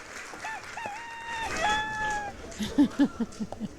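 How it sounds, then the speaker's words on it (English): A rooster-crowing sound effect plays during a live treasure-hunt show, a wavering crow call followed by a few short punchy clucking bursts, fairly loud and alone without talk. "And a cock-a-doodle-doo. You got a rooster?"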